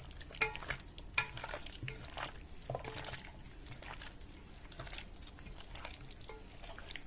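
Chicken pulav marinade being mixed by hand in a bowl, soft wet squelching and stirring with a few sharp clicks near the start, close and quiet.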